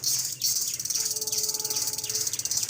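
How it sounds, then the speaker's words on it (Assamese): Loud, dense insect chirping from trees in a forest fills the scene, a steady high-pitched buzz with rapid pulsing, joined briefly by a faint whistling tone. "আৱাজ শুনক না কেনেকুৱা ভয়ংকৰ আৱাজ দি আছে কিবা আৰু পকা হয় এটা"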